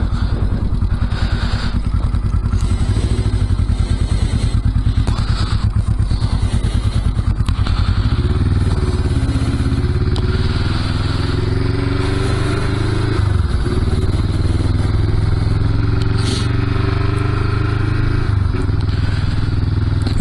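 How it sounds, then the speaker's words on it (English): An old Honda CB350 motorcycle fires up and rides off, its engine loud and close with a steady mid-pitched rumble that shifts as it revs and gets under way, with clattering and wind rush throughout. "let's start up the old 350 and take it for a spin"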